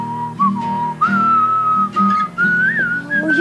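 A person whistles the Skye Boat Song alone, a clear, close melody in phrases separated by short breaths.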